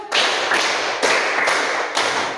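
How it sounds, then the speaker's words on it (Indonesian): A group claps in unison during a physics lesson, five sharp claps spaced roughly half a second apart, each ringing into a reverberant room with no talking between them. "1 kali tepuk, 2 kali tepuk, 3 kali tepuk, 4 kali tepuk"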